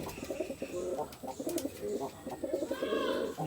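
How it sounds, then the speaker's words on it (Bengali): Pigeons cooing close by in a repeated, soft, throaty rhythm of low calls, with a few higher chirps and light background noise, and no talking over them. "দেখো সব পায়রা বাইরে"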